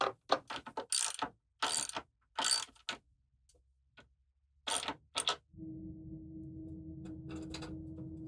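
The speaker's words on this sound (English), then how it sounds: "Make sure everything's lined up before I tighten up these bolts." A ratchet wrench clicks in quick bursts while tightening bolts on a homemade edge sander, sharp close ratcheting strokes separated by pauses, followed by a steady low machine hum.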